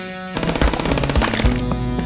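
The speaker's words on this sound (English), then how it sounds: "The Tommy gun, bro." A Tommy gun in the game FPS Chess fires a rapid continuous burst of close, loud shots in a steady rattling rhythm lasting about two seconds.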